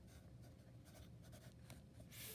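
A number is written by hand during a maths lesson, with quiet, scratchy pen strokes in short bursts against a low background hum and no speech.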